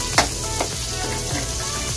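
Garlic sizzles steadily in a hot pan, with a few sharp crackles and pops rising over the constant frying hiss.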